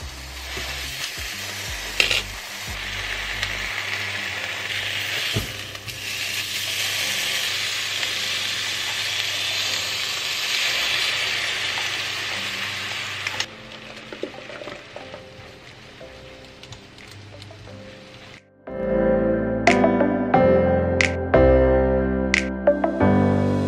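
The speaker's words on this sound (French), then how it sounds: "Je vais faire cuire ma viande." Meat frying in a pan gives a loud, continuous sizzle and hiss with a few clanks of stirring, then fades to quieter sputtering before a brighter, louder burst of frying near the end.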